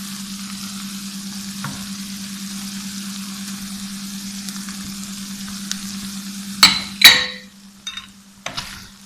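Keema with green chillies and coriander fries quietly over a steady low hum, then a few sharp metallic clanks and scrapes of stirring ring out near the end.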